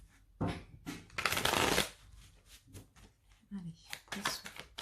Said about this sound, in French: avec le Oshozen Tarot et on va prendre 3 cartes